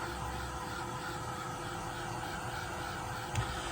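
A heat tool runs continuously while drying paint for a faux bleaching technique, a steady close-up blowing hiss with a low rumble that holds at an even level throughout, with no talking.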